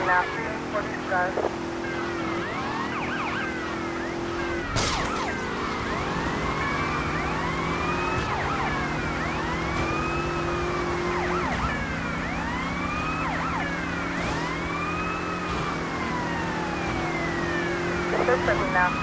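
A police car siren in the video game GTA Vice City wails in repeated rising and falling sweeps over a steady engine hum, continuous and fairly loud throughout.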